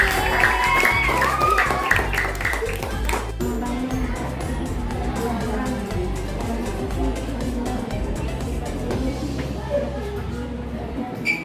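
A fifth-grade maths class applauds pupils Raisa and Putri after their group presentation: dense, steady clapping from many hands in a classroom, continuing for several seconds after an opening stretch with a voice.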